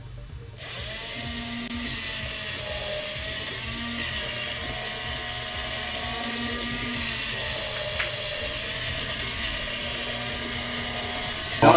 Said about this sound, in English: Here's some video of the operation of this differential drive robot.